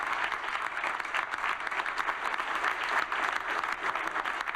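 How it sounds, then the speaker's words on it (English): A large audience rises and claps in a sustained, dense wave of applause that stays steady and loud throughout, with no talking over it. "And they all stood up and clapped."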